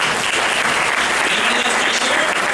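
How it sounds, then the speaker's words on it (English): Loud, continuous applause from an audience at a Community Associations Institute talk fills the whole stretch, with steady dense clapping and no voices on top. "So give them some applause."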